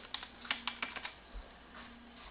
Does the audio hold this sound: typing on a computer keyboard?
yes